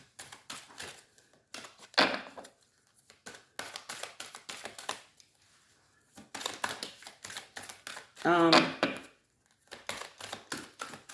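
Repeated soft riffling and flapping bursts of tarot cards being shuffled, close up, in uneven rhythmic runs with short pauses between them.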